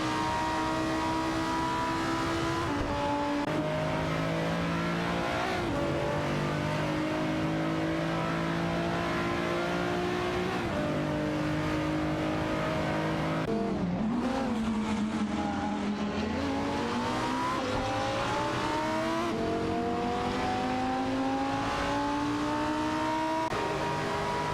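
Race cars in a video game, a Panos Abruzzi GT2 and a Lamborghini Gallardo GT3, scream along in a continuous high engine whine, with pitch climbing and dropping through gear changes and a brief dip midway, alone without voices.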